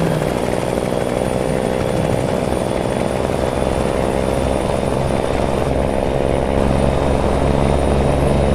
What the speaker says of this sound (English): Man, I got a helicopter out and everything